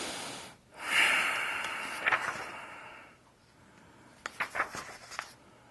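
A person demonstrates breathing: a strong drawn breath followed by a long exhale, then a series of short sniffing breaths, close and fairly loud, with no talking.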